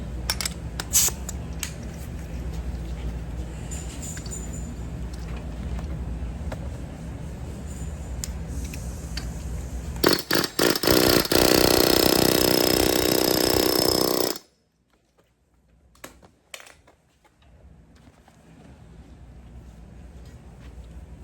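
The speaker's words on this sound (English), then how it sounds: "So I like to use this hair hammer with a point." Air hammer with a point rattling hard against a seized axle in a Toyota Camry steering knuckle, a loud, continuous high-speed hammering burst lasting several seconds amid garage noise, then stopping abruptly into near silence and faint clinks.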